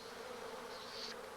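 Scout bees buzzing at the hive, a steady close drone of many insects with a brief higher whine rising near the end.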